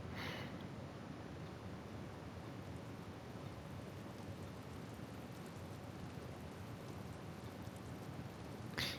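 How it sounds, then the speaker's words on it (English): Steady rain drizzle in the video game Witch on the Holy Night, a soft continuous hiss of falling drops with faint low rumbles, even and unbroken throughout. "While he did, the rain shower lightened into a drizzle. His mind wandered as he listened to the sound of the raindrops."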